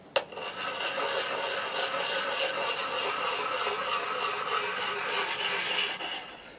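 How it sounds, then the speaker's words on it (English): An inexpensive Chinese axe blade is ground steadily against the coarse side of a sharpening stone, giving a continuous close rasping rub that runs unbroken almost to the end, with no voices. "I'm going to spend another 10 minutes or so just bringing this down with the coarse side of this stone"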